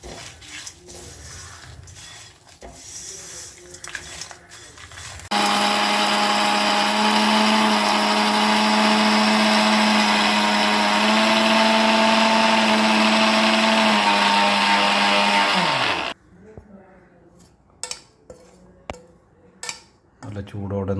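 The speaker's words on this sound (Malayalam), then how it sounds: "രണ്ടും കൂടി മിക്സ് ചെയ്തിട്ട് നമുക്ക് മിക്സിയിൽ പൊടിച്ചെടുക്കാം" A kitchen mixer grinder runs loud and steady for about ten seconds, grinding dried prawn and coconut for chutney, with a whining motor pitch that drops as it stops; quieter clinks and handling noises come before and after.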